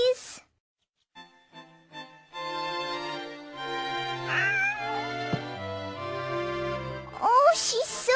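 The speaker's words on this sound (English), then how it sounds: "you've got a kitten, haven't you?" A kitten meows several times in the video game Shadow of Memories, plaintive drawn-out cries with pauses, close and clear, ending in a louder higher wail, with light background sounds and a soft voice near the end.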